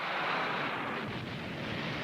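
Aerial and ground attack on La Moneda, the presidential palace in Chile, heard as a dense, continuous roar of heavy gunfire and explosions.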